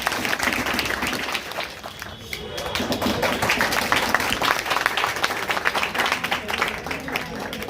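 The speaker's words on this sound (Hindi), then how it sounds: "गिफ्ट देते हुए एक जोरदार ताली बजाइए।" Students in a mathematics class give loud, sustained applause. Dense clapping from a close crowd runs throughout, with voices mixed in.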